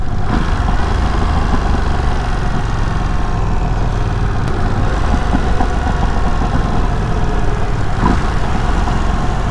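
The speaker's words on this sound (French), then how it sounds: "Des petits retours à l'échappement." A Ducati Streetfighter V2 motorcycle engine runs steadily and loudly, heard up close while riding, a continuous droning rumble with a few faint crackles from the exhaust.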